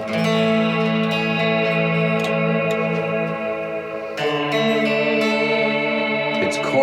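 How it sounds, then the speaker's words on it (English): A sustained, shimmering guitar-like tone washed in reverb, its tail gently wavering and doubled with a chorus effect, steady and loud throughout. "It's chorusing the reverb."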